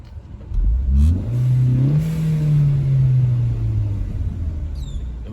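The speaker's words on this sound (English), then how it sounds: "Oh my God, it's not idling rough anymore." A 2014 Hyundai Veloster engine, recently misfiring, runs up close with a steady low hum. Its pitch rises briefly, then holds even and smooth to the end. No one speaks.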